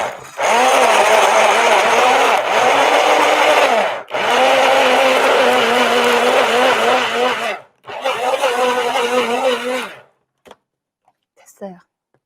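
A kitchen blender grinds food loudly and steadily in long bursts, pausing briefly between runs, then stops, leaving a few small clinks.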